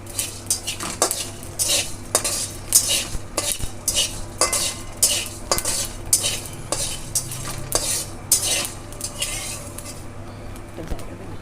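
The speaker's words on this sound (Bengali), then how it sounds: "এগুলোকে আমি একটু ড্রাই রোস্ট করে নেব।" Fenugreek and other spices are dry-roasted in a pan while a utensil stirs and scrapes against the metal in close, rhythmic strokes, with light clinks and a soft sizzle until the stirring stops near the end.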